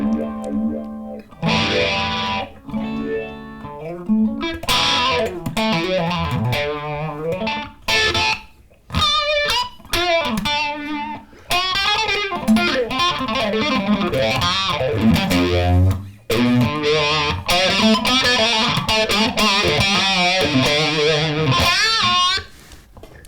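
Electric guitar from Guthrie Govan runs through a TonePrint phaser on a Helix, giving sustained and bent notes a swirling, sweeping, vocal character, with phrases broken by short pauses and played loud and close.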